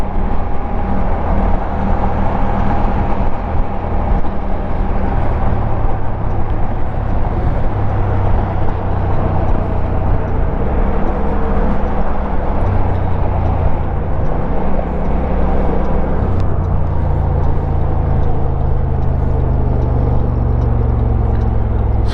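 Kymco AK 550 maxi-scooter cruising on a freeway: a continuous loud roar of wind and road noise with a deep engine drone, steady throughout with no talk.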